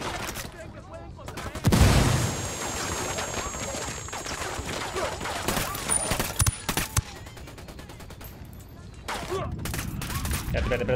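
Gunfire in the video game Ghost Recon: Wildlands: a loud burst of shots opens the battle, followed by sustained rapid fusillades and scattered shots with continuous battle noise, and someone talks over it.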